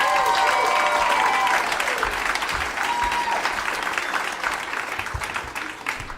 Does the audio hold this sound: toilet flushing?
no